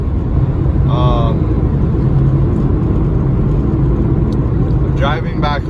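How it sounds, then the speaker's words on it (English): A car driving on the road, with a steady, loud engine and road hum running throughout and brief higher tones near the start and end. "I'm driving back home"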